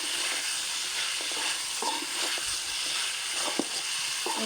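Pallipalayam chicken frying in a pan over a strong flame, a steady bright sizzle with a few scraping stirs and clinks, heard alone without talking.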